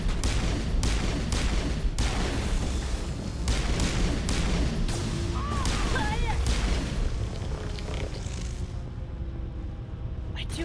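Repeated gunshots from a sci-fi shooter, Mass Effect 1, fired in quick bursts with short gaps between them. Sharp, loud cracks come over a dense layer of game noise, with voices talking over the action.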